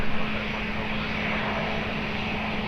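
An airliner's engines roar steadily during takeoff at Lisbon Airport, a sustained broadband rumble with a low tonal hum, heard from a distance without speech.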